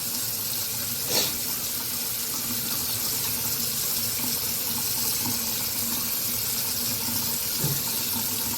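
Water runs steadily from a bathroom tap into a sink while a clay face mask is rinsed off, a continuous close hiss with faint splashes and no speech.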